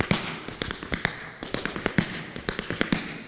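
Tap dance flaps on a hard floor, repeated in quick succession: sharp double-struck shoe taps in a steady rhythmic pattern, loud and close, with no talking over them.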